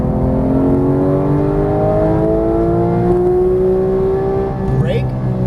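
Race car engine on an Ex Rac GT3 track, roaring steadily at high revs as the throttle is squeezed out of a corner, pitch rising slowly across the clip, with a brief whine near the end.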